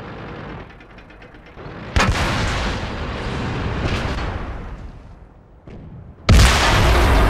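Tank cannons fire in a World of Tanks clan wars battle, with two loud, booming shots ringing out over the rumbling in-game engine and battle noise, the second blast sharp and close.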